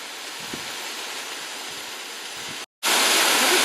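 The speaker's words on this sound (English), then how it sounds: "It's an aggressive waterfall." A powerful 19th-century castle waterfall in Nice roars as a steady, loud broadband rush, cut briefly by a short gap before resuming, with no talk.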